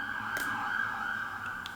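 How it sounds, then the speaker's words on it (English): An emergency vehicle siren sounds outside, a steady sustained wail at moderate distance held for the whole short stretch, with faint clicks over it. "So many sirens today."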